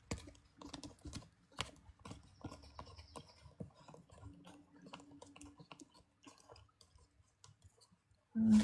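A deck of tarot cards being shuffled by hand makes a long run of close, dry clicks and riffling taps. The sound is irregular and soft, thins out toward the end, and gives way to a sudden low thump.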